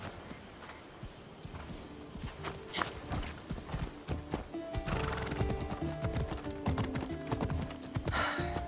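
Horse hooves clip-clopping while riding in the video game Assassin's Creed Odyssey: a steady, quick gallop of hoofbeats with a whinny, close and clear, growing fuller midway beneath soft background music.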